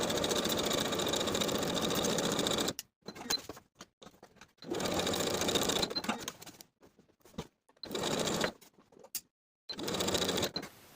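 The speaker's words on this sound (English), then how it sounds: "I'll sew the bottom edge of the pocket in place and baste the side edges" A sewing machine stitching the bottom edge of a dress pocket onto a skirt panel, running in several steady whirring bursts separated by short quiet pauses.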